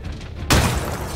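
An artillery salvo shell explodes in ArmA 3, a sudden loud broadband boom that cuts in after a quiet stretch and leaves a sustained rumbling roar of debris and echo.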